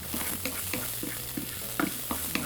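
Fried rice with carrot and onion being stir-fried in a pan, a steady sizzle broken by repeated scraping and clattering strokes of a utensil, close and fairly loud.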